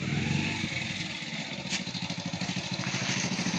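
A motorcycle engine idles nearby with a steady, rapid chugging pulse, fairly loud and continuous, in an outdoor village setting.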